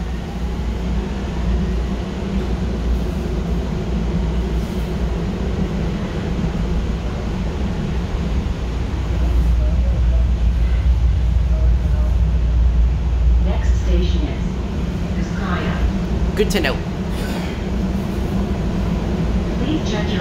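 A Miami Metrorail train rolls between stations with a steady, loud low rumble and rail hum heard from inside the car, and a voice speaks briefly over it.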